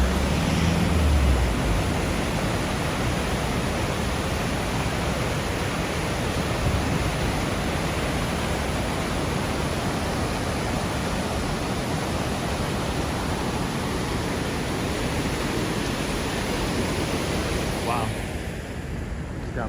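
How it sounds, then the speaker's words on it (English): Small waterfalls in Betws-y-coed, Wales, pour in a steady broadband rush of falling water that runs without a break from start to end, loud and close, with no talk over it. "Beautiful little waterfalls here."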